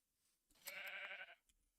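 A sheep in a video game gives one clear, nasal bleat lasting under a second, up close and alone against near silence, followed by a faint soft tap.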